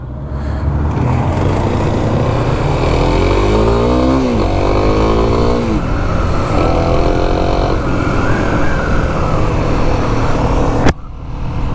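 A Kawasaki KLX 300 SM supermoto on a road, its single-cylinder engine droning loud and steady at cruising speed, pitch rising and falling through gear changes over constant wind rush.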